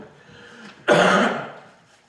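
A single sharp cough with throat clearing from a person at a town selectboard meeting, sudden and close in a quiet room, then fading away.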